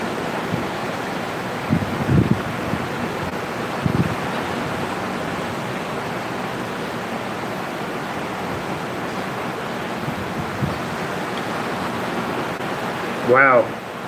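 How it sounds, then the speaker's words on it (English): Steady broadband wash of ocean surf rolling in on Indian Rocks Beach, Florida, continuous and even with wind across the microphone, a few brief thumps early on and a short chirpy sound near the end. "Hopefully you'll catch a little audio of the waves coming in."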